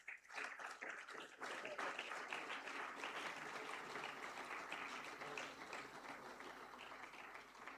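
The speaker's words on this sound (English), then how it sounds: "Can we please have a big round of applause?" Steady audience applause at a school award ceremony, many hands clapping densely and evenly for several seconds, fairly distant and soft, with no talk over it.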